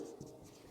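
Chalk or marker writing on a board during a geography lesson, faint close strokes with soft scratchy rubbing, brief and quiet, no speech over it.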